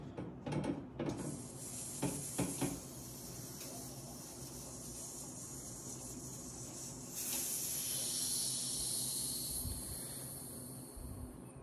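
Compressed air, charged to about 60 PSI, hisses steadily out of an HVAC line after the valve core is pulled. The release swells louder partway through, preceded by a few clicks and rattles of the core tool.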